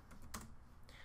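Keys tapped on a computer keyboard while Java code is entered, a few faint, quick clicks in a quiet room with no talking.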